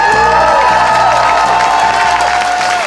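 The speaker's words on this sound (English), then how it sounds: "Make some noise for both of them, y'all." A large outdoor crowd at a rally for a liberation march cheers, whoops and applauds loudly and continuously, a dense wall of voices and clapping.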